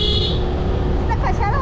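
A car horn sounds in a steady, loud honk at the start, honked by a child riding in a car on a village road near Mavalange Kavaliwadi, with voices over road rumble toward the end.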